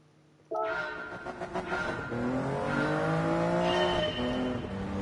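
Race car engine in the GT7 video game, heard at a GR Yaris or similar car: a loud, close engine note that revs up in rising sweeps, broken by quick gear shifts, with the pitch climbing steadily again after each shift.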